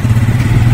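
A motorcycle carrying a rider and passenger, its engine giving a loud, steady low rumble up close throughout, with no talking.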